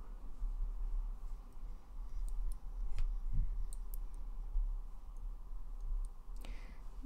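Computer mouse clicks while a WordPress security plugin is being installed, a few sharp, quiet clicks spread over several seconds against a low background hum.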